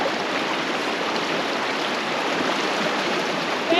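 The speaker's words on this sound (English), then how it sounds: "This water's pushing. This water's pushing me." Cold stream water rushing steadily past a person wading in it, a dense continuous wash of flowing current close by with no pauses, among very tall trees at a campsite.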